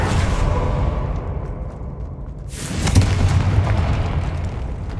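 Confringo explosive spell blast in Hogwarts Legacy inside a decayed catacomb: a sudden broad burst erupts after a low rumbling stretch, then rolls on loudly with a deep, sustained boom.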